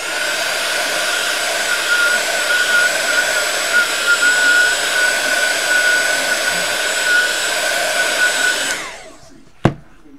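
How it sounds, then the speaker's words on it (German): A hair dryer blows loudly and steadily for about nine seconds, heating embossing powder, then switches off and winds down, followed by a single sharp click. "Ist halt etwas lauter, weil man den Föhn braucht."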